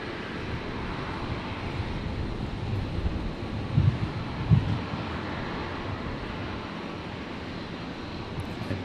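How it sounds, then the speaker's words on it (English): A Life Flight Challenger jet arriving from Cairns lands at Brisbane airport, a fairly faint, steady distant engine roar with wind-like noise and a couple of brief low bumps. "The Life Flight Challenger coming in from Cairns."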